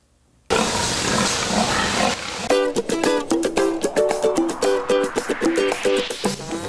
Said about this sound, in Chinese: 小猪全都挤在猪妈妈的身边抢着喝奶